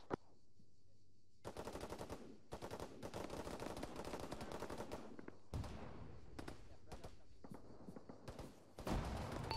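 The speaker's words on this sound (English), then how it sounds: "I have no idea what these UAVs are engaging, but they're literally shooting 50 right past" UAVs fire .50 caliber guns in an Arma 3 battle on a beach, producing long, dense bursts of rapid automatic fire interrupted by short pauses, while voices talk over radio in the background.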